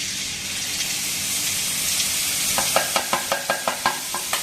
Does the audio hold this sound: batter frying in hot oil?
yes